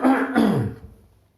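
A woman gives a small cough, a short double throat-clearing burst up close that quickly fades into quiet.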